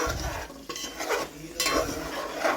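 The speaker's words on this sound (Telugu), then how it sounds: "ఇంకా దాన్ని ఇలాగైతే కలిపేసుకుంటాను" Masala stirred into a brinjal curry in a pan, with soft scraping and clinking of a utensil over a low sizzle, close and uneven in brief bursts, no talk.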